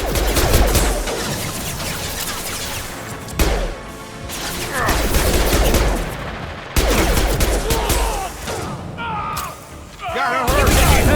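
Heavy gunfire in the video game Mass Effect 2, a dense, loud barrage of shots and impacts running throughout, broken by abrupt cuts, with voices talking over the battle.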